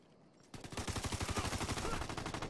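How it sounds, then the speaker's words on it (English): Rapid automatic gunfire from the video game Ghost Recon Future Soldier in online multiplayer, a loud sustained burst of evenly spaced shots starting abruptly after a short quiet moment. "I'm getting shot."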